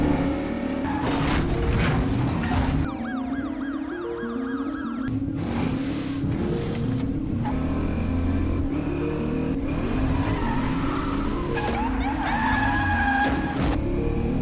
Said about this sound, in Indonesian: Richard memutar mobilnya dan melarikan diri. Polisi pun mulai mengejar Richard